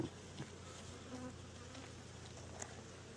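Honeybees buzz steadily at close range after being shaken off a hive frame during a mite check, a dense, continuous insect hum with no talk.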